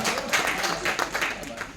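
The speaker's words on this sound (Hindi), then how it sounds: "शेर को तालियां चाहिए," An audience claps in appreciation of a recited Hindi shayari couplet: close, moderately loud applause with uneven bursts of hand claps over a couple of seconds, voices mingling underneath.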